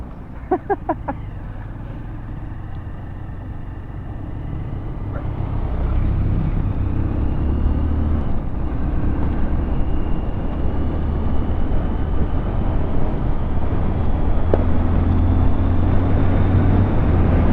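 A motorcycle riding fast on a road to Tara Falls in Bolinao, with a steady engine drone and strong rushing wind noise that builds and holds, close and loud throughout.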